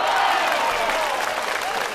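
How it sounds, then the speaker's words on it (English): Short burst of crowd applause, a dense even clatter of many hands clapping for about two seconds, steady and fairly quiet throughout. "can we just have a quick round of applause for Gengar, guys?"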